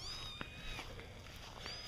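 Young kittens with their mother give faint, high meows among soft rustling, a few thin cries in quick succession.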